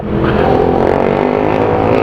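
A motorcycle engine revs loud and close, a steady throaty drone while riding over a bumpy, potholed road.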